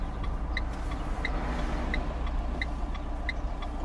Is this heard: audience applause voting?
no